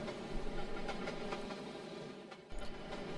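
A long, heavy freight train rolls steadily through the Trainz railroad simulator, producing a continuous wheel-and-rail rumble with faint clicking. A brief dip comes near the end before the rumble swells back.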